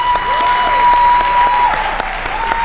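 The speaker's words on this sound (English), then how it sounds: "let's give a big round of applause for the 2022 Special Olympics Michigan Spirit Award winner" A banquet hall crowd claps for a Special Olympics Michigan Spirit Award winner at the 2022 Hall of Fame and Award Banquet. The applause is dense and sustained, with a faint steady electronic tone running beneath it.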